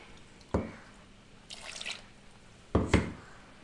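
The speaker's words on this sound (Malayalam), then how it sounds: "ഇനി നമുക്കിതിനെ നന്നായിട്ടൊന്ന് കലക്കിയെടുക്കാം." Avial curry with salt being stirred in a pot, a few separate wet, soft clunks and squelches with quiet pauses between them.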